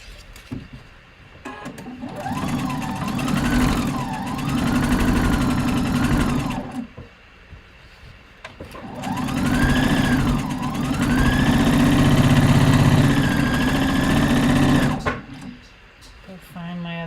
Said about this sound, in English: I'm going to sew the 1/2 inch seam allowance on this side.